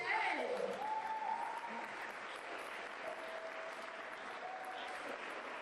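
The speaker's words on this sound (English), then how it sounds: "let's give one more round of applause to our fantastic panelists here today" Applause for panelists at an AI panel event, a dense wash of distant clapping that starts louder and settles to a steady, fainter level, with faint voices and tonal sounds in the background.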